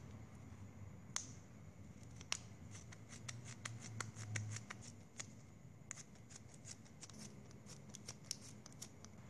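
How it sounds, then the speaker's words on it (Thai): Scissors cutting plastic drinking straws into strips for a craft flower, a rapid run of sharp crisp snips, quiet and close, with faint background hum and no talk. "แล้วก็ซอยหลอดเลยนะคะ"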